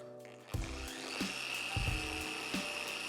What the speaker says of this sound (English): If the polisher is going fine, you can increase the speed.